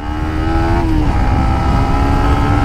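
A KTM Duke 200 or Yamaha MT15 launches hard off the line in a drag race, a loud, close motorcycle engine with a rising, buzzy note that holds steady as it pulls away.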